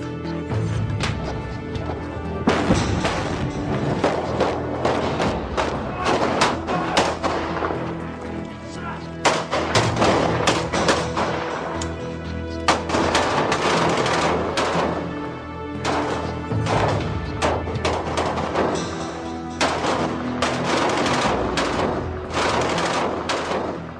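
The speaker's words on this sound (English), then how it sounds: "You see the dust and smoke from one flashbang" Repeated sharp blasts and bangs from flashbang grenades and gunfire during a special forces building assault, loud close bursts coming in irregular clusters throughout.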